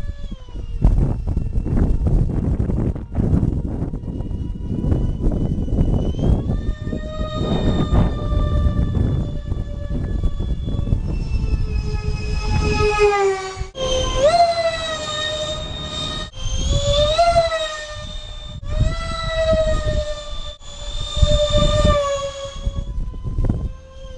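Whining, rising and falling electric ducted fan scream of a scratch-built twin-fan RC F-22 Raptor jet with thrust vectoring as it flies past, loud and siren-like with a rumbling low end, no talking.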